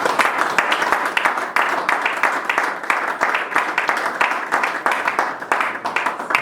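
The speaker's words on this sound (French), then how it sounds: "On acclame le Seigneur." A church congregation breaks into sustained applause, a dense wash of many hands clapping at once. It carries on for several seconds at a steady, lively pitch, with faint voices mixed into the crowd.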